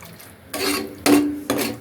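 Water is poured into a pan of boti curry, with three separate splashing, sizzling pours about half a second apart, each one loud and close and with no voice heard.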